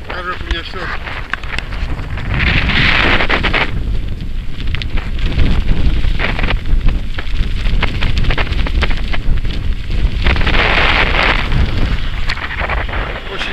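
Very strong wind roars into the microphone beside a wide, rough asphalt highway, a loud continuous buffeting rush with surging gusts, heard alone with no talk.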